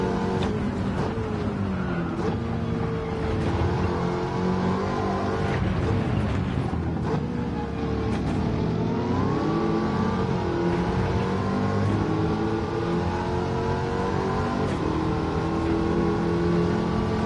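Race car engine in the video game Gran Turismo, droning steadily at high revs under slipstream with a pitch that climbs, dips on an upshift to sixth, then climbs again, loud and continuous with no talking.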